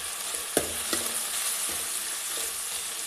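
Onions and green chillies dropped into hot oil with cumin and mustard seeds, giving a steady sizzle broken by a few sharp stirring knocks from a spatula against the pan.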